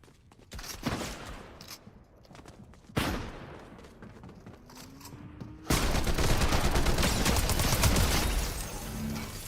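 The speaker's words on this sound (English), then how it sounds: "Dude, the fire rate on this gun is..." Rapid SMG gunfire in a video game, loud fast-cycling bursts that start and stop, building to a long sustained spray of shots near the end, close and dominant.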